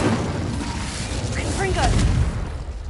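A steady roaring, rumbling burst of flame from the Incendio fire spell in the video game Hogwarts Legacy, loud and continuous for a few seconds with faint game chimes over it.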